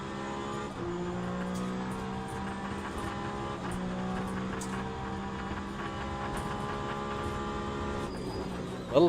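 A McLaren race car engine in the Le Mans Ultimate sim at the Sebring 2-hour event holds a steady high-revving drone at full throttle, with quick upshift blips punctuating it and a faint voice barely audible beneath.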